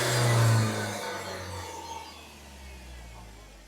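A Kia Bongo fitted with a 2.4-litre propane engine runs with a low steady hum, a brief rise at the start settling into an even idle with no talk.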